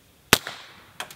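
A single sharp, suppressed gunshot, fired through either a 100-year-old Maxim silencer or a Griffin Optimus Micro suppressor, cracks loudly and close, with a short decaying tail and a couple of fainter clicks afterwards.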